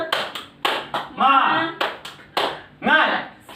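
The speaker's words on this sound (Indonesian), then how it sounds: "mari kita tepuk semangat terlebih dahulu" A group claps in a brisk rhythmic pattern, bursts of sharp claps alternating with short chanted voices between them.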